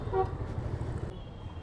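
A short car horn toot rings out over a low rumble of road traffic, heard faintly and briefly.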